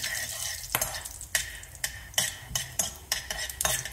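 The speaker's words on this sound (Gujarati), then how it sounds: "અજમો અને લવિંગને આપણે થોડું ફ્રાય કરી લેશું." Ajwain and cloves fry in hot ghee in a home kitchen, a soft sizzle under repeated sharp metallic scrapes and taps of a spoon stirring in the pan, about eight strokes in a steady rhythm, with no talking.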